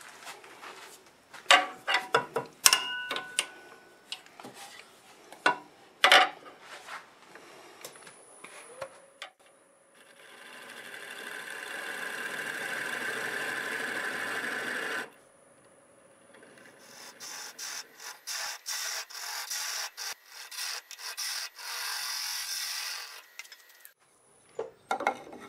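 Wood lathe turning a flame maple burl, a round carbide tool scraping and cutting in bursts, with a steady sustained cut in the middle and scattered ticks and rasps around it, close and fairly quiet.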